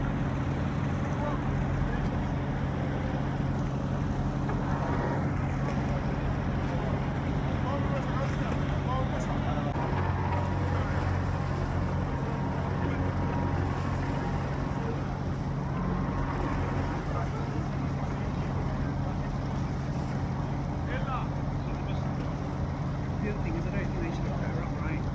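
A red high-speed powerboat idles and runs at sea during a rescue of a woman who fell from a passenger ship. A constant low engine drone and wind rumble fill the whole stretch, with voices talking faintly underneath.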